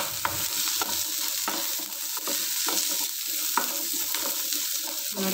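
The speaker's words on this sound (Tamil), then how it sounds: "பூண்டு நல்லா வதங்கணும், அப்போ தான் நல்லா வாசமாக இருக்கும் குழம்பு" Garlic sautés in a pan for a Tamil kuzhambu made with dried sundakkai, with a steady sizzle, frying crackle and the scrape of a spoon stirring throughout, close and alone with no talk.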